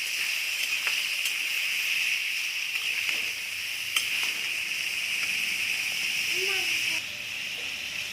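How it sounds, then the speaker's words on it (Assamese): A steady, soft sizzling hiss of raw papaya frying gently on a low flame, with faint occasional pops and ticks throughout. "মই ল' ফ্লেমত ভাজি ল'ম।"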